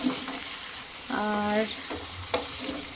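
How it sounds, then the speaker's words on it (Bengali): Chicken curry with chili powder sizzles and crackles as it is stir-fried in a pan, steady frying under occasional spoon scrapes, with a brief spoken word. "প্রায় কষানো কমপ্লিট হয়ে যাচ্ছে, আমি লঙ্কা গুঁড়ো এখন ফাইনালি দিয়ে দিয়েছি।"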